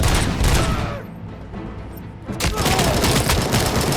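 Uzi fire in RoboCop: Rogue City, a dense continuous roar of rapid shots that briefly dips then resumes at full loudness, close and heavy, with no speech over it.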